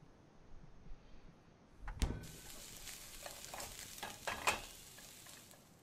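Food frying while cooking in a video game, starting with a sharp clunk as it goes into the pan, then a steady sizzling hiss with a few louder crackles and stirring sounds, moderately close and without any talk.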